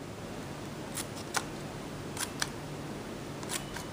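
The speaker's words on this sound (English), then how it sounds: "And I just cut slits there like so." Scissors snipping slits into soft suede cardstock while making a Halloween card: a handful of short, crisp, close cuts spaced irregularly over a steady background hiss.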